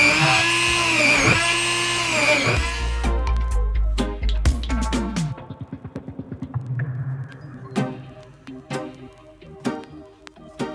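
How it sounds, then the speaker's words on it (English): A high-pitched Dremel rotary tool whines steadily, then breaks into repeated short bursts and clicks as it drills holes through the bottom of a plastic container, close by. "I'm going to start by using my Dremel to drill a few holes into the bottom"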